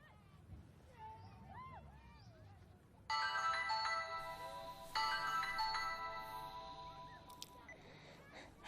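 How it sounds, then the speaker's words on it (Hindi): A phone ringtone plays in two loud, sustained electronic bursts after a quieter stretch of background murmur and chirpy tones. "फोन बज रहा है"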